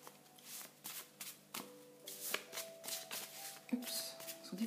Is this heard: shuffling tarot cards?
yes